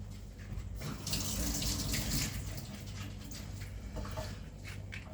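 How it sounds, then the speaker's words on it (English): A kitchen tap runs steadily while a spoon is rinsed under it, with a soft, continuous splash of water into a sink, faint and close, with brief clinks near the end. "I rinse my spoon."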